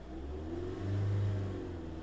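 A 2010 Renault Grand Scenic III with a 1.9 dCi diesel engine idles steadily, then is revved once to about 3000 rpm. The engine swells smoothly and drops back to a close, even idle.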